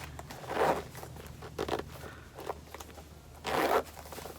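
A zipper is drawn closed on a Chanel 21P clutch with a chain. It makes a few short, close, quiet rasping pulls with small pauses between them and no talking.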